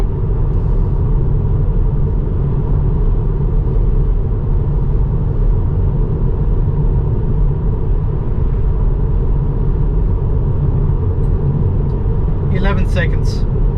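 Steady road noise inside a Tesla driving on Autopilot at speed: a constant low tire-and-road rumble with a faint airy hiss that holds unchanged throughout.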